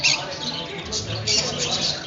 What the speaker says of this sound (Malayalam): ഇതിനെ കണ്ടപ്പോൾ തത്തമ്മയാണെന്ന് തോന്നുന്നു.